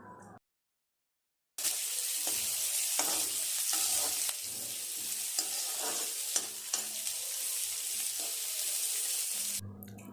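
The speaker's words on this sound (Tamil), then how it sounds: "கருவேப்பிலை கொஞ்சம் இப்போ சேர்த்துக்கலாங்க. வெங்காயம் நல்லா வதங்கட்டுங்க." Onions, green chillies and curry leaves sauté in a pan for beetroot poriyal, a steady close sizzle with scraping stirs, starting after a short silence and ending abruptly.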